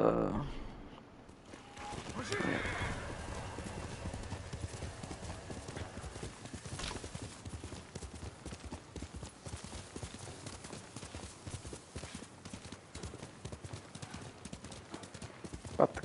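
Horse hooves clip-clop in a video game, a fast, steady rhythmic gallop that carries on for the whole stretch over continuous game ambience, loud and close.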